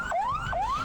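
An ambulance siren on Jalan Pemuda in Klaten, Central Java, wails in repeated rising sweeps, fairly loud over a low traffic rumble.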